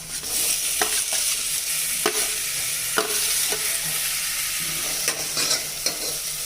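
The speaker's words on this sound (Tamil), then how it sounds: "இப்போ வெங்காயம் நல்லா வதங்கிட்டுருங்க தக்காளி போட்டுடலாம்" Tomatoes going into sautéed shallots in a brass pot, a constant close sizzle with sharp spoon scrapes and taps against the metal roughly every second.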